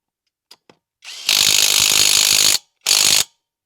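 A Fartools CH350 impact wrench tightens a car wheel bolt, with a couple of faint clicks first and then a loud, steady rattling hammer lasting over a second, followed by a short second burst.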